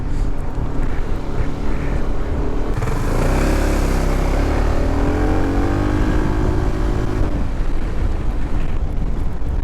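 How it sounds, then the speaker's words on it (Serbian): A 2024 BMW C400 GT scooter engine runs steadily and loud, its pitch rising as it revs up midway, then settling back; no voices. "Lepo, živahno radi taj motor."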